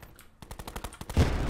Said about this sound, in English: Oh, he's got a shotgun. He fucking headshotted me.